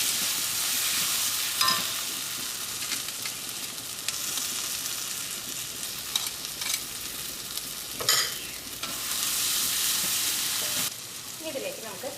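Beef with ground masala fries in a pan while being stirred, a loud, close, continuous sizzle and hiss broken by scraping strokes and occasional knocks of the utensil, with no voices.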